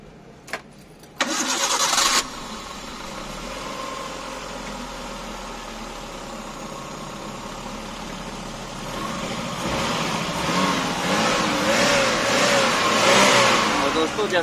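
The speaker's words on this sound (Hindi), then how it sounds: "तो एक बार आपको स्टार्ट करके इंजन की साउंड सुना देते हैं" A 2007 Maruti Versa/Eeco cranks briefly and catches, then settles into a steady mid-pitched idle. Toward the end it revs up in rising, swelling pulls, heard close up.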